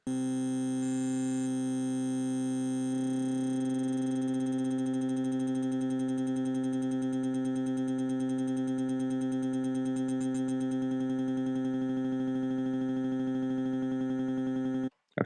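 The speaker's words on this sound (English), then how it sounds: "A very short loop will take on a higher toned quality." A steady, buzzy sustained tone with a bright, slightly metallic timbre drones continuously for several seconds, then cuts off abruptly.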